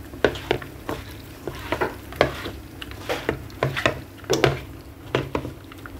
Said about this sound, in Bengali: এখন আমি এখানে তেল অ্যাড করে দেব। এখন আমি এটা মিক্স করে নেব।